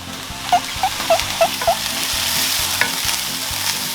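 Pork stir-frying in a hot pan for spicy basil instant noodles, a loud close sizzle with a run of quick rhythmic spatula scrapes and clacks, no talking.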